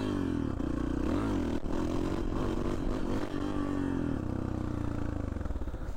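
A 1992 Yamaha XT 600 motorcycle with a Leovince X3 exhaust revs loudly up close, its engine note rising and falling in a rough, throbbing roar with rattly mechanical clatter underneath.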